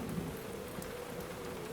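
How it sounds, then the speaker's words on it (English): Rain falls steadily on a rainy night in London, a soft, even patter with a low rumble beneath it, faint and unbroken. "The symphony of rain."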